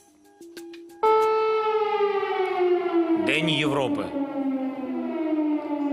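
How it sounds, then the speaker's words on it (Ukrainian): An air raid siren in Kyiv begins with a loud sustained wail that slowly falls in pitch, while a voice speaks briefly over it partway through. "їх перервав сигнал повітряної тривоги"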